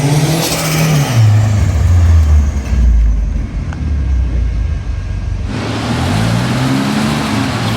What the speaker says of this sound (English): you can actually hear more of the engine